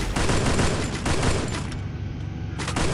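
Dense, loud gunfire from a Free Fire match with an AK rifle, a near-continuous rattle of rapid shots that thins briefly before another burst near the end.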